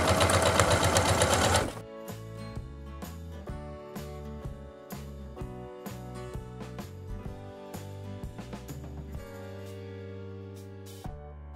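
A sewing machine topstitches a fabric witch hat, starting with a loud burst of fast continuous stitching, then slower uneven runs of needle thumps with short pauses, close and clear with no talking.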